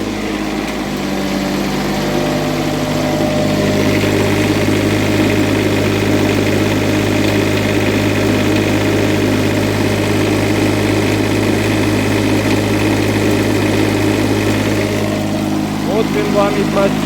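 A semi-automatic GAB-4 diesel generator runs at a steady idle, a loud, close, continuous engine drone with a low hum that holds unchanged throughout.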